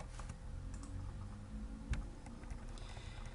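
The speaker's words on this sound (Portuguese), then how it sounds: "Se eu digitar aqui" A computer keyboard typed on during a Visual Basic .NET lesson, a few soft scattered key clicks over a steady low background hum, quiet and close, with no talking.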